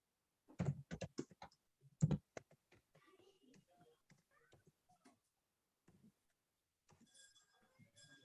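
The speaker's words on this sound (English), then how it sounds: "I'm typing some question here in chat box." Computer keyboard typing in a quiet room: a few louder clusters of keystrokes, then sparse, faint clicks and taps with long pauses between them.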